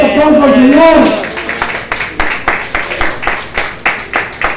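A church congregation breaking into rhythmic clapping after a voice, steady loud claps in a regular beat carrying on to the end.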